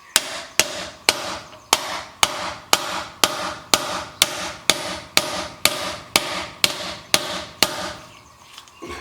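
A race installer hammered to drive a bearing race into place on a 1964 Ford Falcon, with fifteen loud, evenly spaced metallic strikes close by, each followed by a short ring, before the blows stop.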